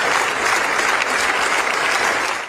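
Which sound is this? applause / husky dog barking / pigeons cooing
applause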